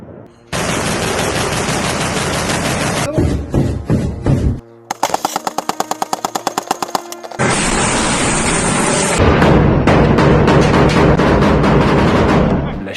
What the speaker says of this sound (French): Des explosions retentissent.